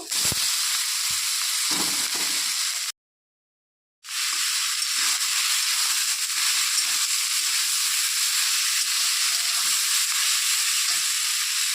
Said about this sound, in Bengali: এখন আমি শাকটা দিয়ে দেব।